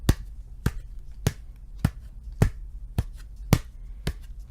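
A person mimics wrestler Hulk Hogan's footsteps coming down the aisle by making sharp, evenly spaced thumps, about eight steady beats close up with quiet gaps and no talking.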